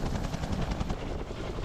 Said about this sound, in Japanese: 約3ヶ月前見晴らしの尾瀬小屋に雪下ろしに向かう、ヘリのフライトの様子です